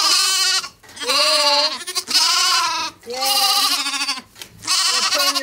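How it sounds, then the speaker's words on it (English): Several young lambs bleat loudly and close by in repeated long wavering cries, one after another with brief gaps between them, and no one talks. "we're gonna let the lambs out"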